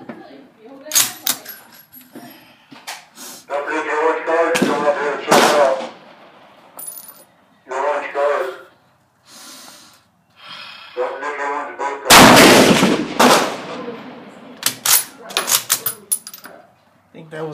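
Sharp, loud rifle shots from a Mosin M44 and Type 53 crack at a range, spaced irregularly with bolt and metallic handling clatter between them, and people talk in the gaps.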